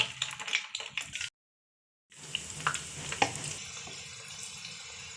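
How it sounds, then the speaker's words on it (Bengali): Small balls of leftover pulao rice frying in oil make a close crackling sizzle, then about a second of silence before the frying resumes as a softer, steadier hiss with occasional pops. "এটাকে ভাজার জন্য তেলের মাঝে ছেড়ে দেবো"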